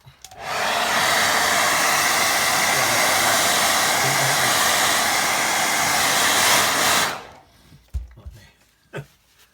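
A hair dryer runs loud and close over a watercolour painting of a country path, a steady roaring hiss lasting about seven seconds, then cutting off and followed by a few light knocks and handling sounds.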